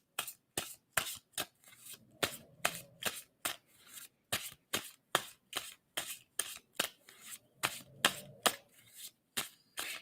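Tarot cards are shuffled by hand in quick, crisp riffles and taps, a rapid irregular run of sharp papery snaps heard close and alone.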